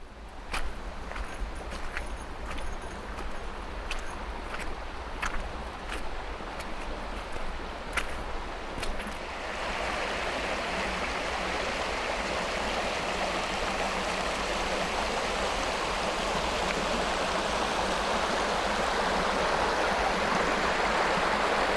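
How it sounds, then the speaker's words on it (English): Steady, broadband rush of river water pouring over a small rapid or waterfall in a valley near a farm field, heard up close and growing fuller and louder as the approach continues, with a few faint clicks and taps early on. "I hear a lot of water rushing over this way."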